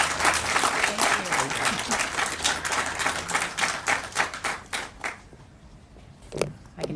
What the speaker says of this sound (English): So a round of applause to Darla.